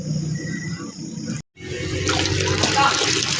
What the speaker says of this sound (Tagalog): mintras ni agas ang tubig